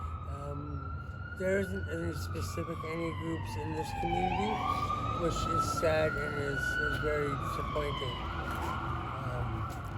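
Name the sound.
emergency vehicle sirens passing outside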